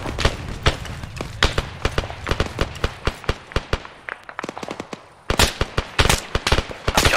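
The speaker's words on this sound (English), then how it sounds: "They're throwing frags at us." Frag grenade blasts and gunfire in an ArmA3 battle, a rapid string of sharp cracks and bursts at irregular intervals, some close and loud, others farther off, with a brief lull before a dense cluster of reports.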